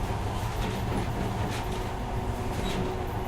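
A monorail train runs through tunnels of the secret Metro 2 line in Metro Last Light Redux, a steady continuous rumble with rolling clatter and occasional hiss, filling the whole stretch with no talk.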